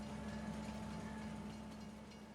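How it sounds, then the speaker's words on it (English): A train passing a road crossing in the Farming Simulator 22 video game, a low steady rumble with a faint humming tone, fairly quiet and fading slightly. "Oh, train's coming."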